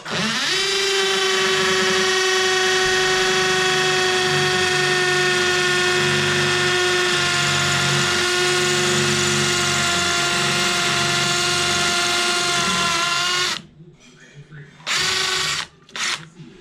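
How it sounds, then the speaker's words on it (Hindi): A Makita HP331DWYE cordless hammer drill runs in hammer mode into a plain brick wall, a loud steady high whine with rattling impact that holds for about thirteen seconds, then stops and restarts in two short bursts. "ये सादी दीवार है ईंट की। तो इसमें हम लोग ड्रिल करके देखेंगे।"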